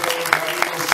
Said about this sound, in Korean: 다 같이 박수로